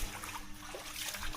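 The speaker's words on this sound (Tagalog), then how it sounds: "May tubig na po. Nadali din. Ayan. May tubig ng ating palayan din eh." Water flows and trickles into a rice paddy field, a steady close rushing with a low machine hum beneath it.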